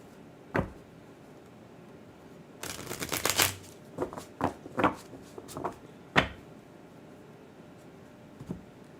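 Tarot cards are shuffled close by: one quick riffle, a dense burst of shuffling, then several separate sharp flicks and taps against a quiet background, with no talk.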